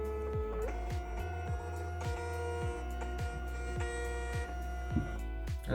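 A Dymo LabelWriter 4XL label printer runs steadily, with a continuous motor whine and a regular train of stepping clicks, close and alone.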